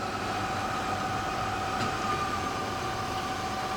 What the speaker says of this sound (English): Machine has a 3000 RPM spindle. We're running it right now.